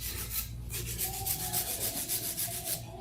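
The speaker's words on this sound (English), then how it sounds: "you wanna use a hand file because you don't wanna use a metal drill and try to mess up the shape" A hand file rubs back and forth across a hardened acrylic powder nail surface, a close, dry rasping in quick, even strokes that repeat steadily throughout.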